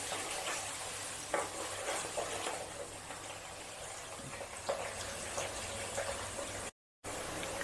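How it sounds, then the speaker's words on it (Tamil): Small shallots sautéing in a pan for a vegetarian banana-flower fish-style curry, a soft, steady sizzle with a few light stirring clicks, fairly quiet and close, with a brief dropout near the end. "இப்போது வெங்காயம் நல்லா வதங்கட்டும்."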